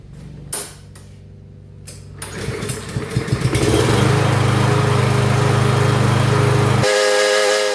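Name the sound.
Yard Machines push lawn mower started with a pull cord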